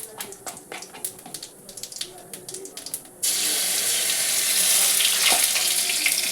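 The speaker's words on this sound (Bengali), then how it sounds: "রসুনটা দিয়ে ভালো করে ভেজে আমি ফেরত আসছি" Garlic frying in oil with cumin seeds, scattered crackles and pops at first, then a sudden loud, steady sizzling hiss when more goes into the hot pan.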